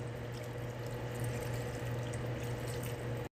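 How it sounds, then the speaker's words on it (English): A cup of water pours steadily into a cooking pot for a few seconds, a close, continuous splashing rush that stops abruptly. "I've got a cup of water here I'm going to add in"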